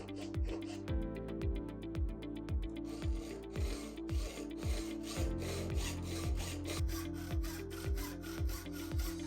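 A 1-inch by 1-inch aluminum angle plate gets a rough cut with a saw, a steady loud back-and-forth rasping in a regular rhythm of strokes that runs without pause and without voices.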